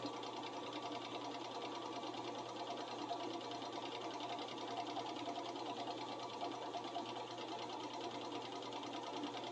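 Sewing machine stitching belt loops, running in a continuous fast mechanical whir with a steady rhythmic needle clatter, fairly faint and alone.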